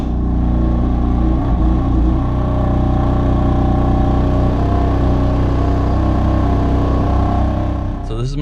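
A tuned BMW M3 engine drones steadily with a deep, loud hum as the car sets off on a test drive, holding an even pitch throughout and ending with a small shift in tone.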